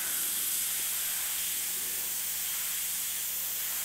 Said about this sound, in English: I did it exactly that way, with the airbrush held at a real low angle